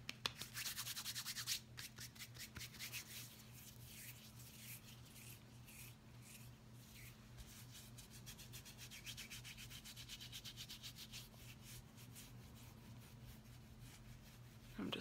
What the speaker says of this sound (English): I'm just rubbing that throughout your hair.